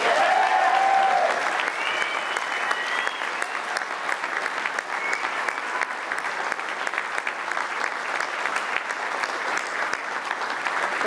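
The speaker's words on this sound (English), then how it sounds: "Can we have a big round of applause for everyone?" Enthusiastic applause from an event audience celebrating EB Games' tenth anniversary (1997–2007) fills the whole stretch, dense and steady, with a brief whistle near the start.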